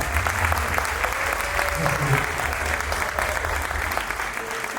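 Dense applause from an audience at a talk on environmental healing and seed sovereignty, a steady wash of clapping mixed with crowd voices and a low hum throughout.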